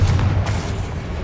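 A Confringo blasting spell in Hogwarts Legacy goes off as a loud, close, low boom with a short rumbling tail, standing alone.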